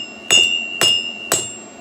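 Three sharp metallic hammer strikes on an anvil while forging a lid lifter, evenly spaced about half a second apart, each with a bright ringing tone that lingers between blows.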